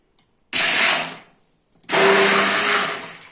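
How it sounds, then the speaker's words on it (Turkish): A kitchen blender whirs through water for a hoya plant feeding mix in two loud, close bursts, the first about a second long and the second longer, separated by a short silent pause. "Evet eklediğimiz suyu bu şekilde çorba çektiğimiz tarafıyla blenderla çekeceğiz"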